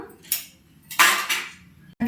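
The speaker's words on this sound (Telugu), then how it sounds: "గిన్నె పెట్టుకుందాం" Metal cookware clanks and scrapes in a few sharp, close bursts as a pot is set down on a gas stovetop.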